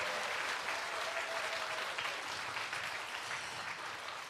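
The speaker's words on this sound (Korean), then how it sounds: "여러분 환영의 박수 다시 한번 부탁드립니다" An audience at a traditional Korean music concert claps steadily to welcome a guest, a dense, even applause filling the room throughout without pause.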